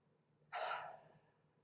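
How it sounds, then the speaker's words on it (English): A single soft, breathy exhale like a sigh during a yoga breathing exercise, close and quiet against near silence. "taking a couple deep inhales and deep exhales"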